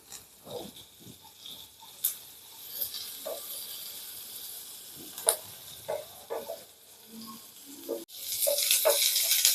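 Curry leaves dropped into hot oil over frying onions, crackling in short scattered pops and a fizzing hiss that swells loud near the end, close to the pan.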